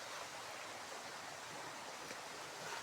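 A steep mountain stream in Nepal rushes close by in a steady, loud, unbroken roar of churning water, with no voices over it.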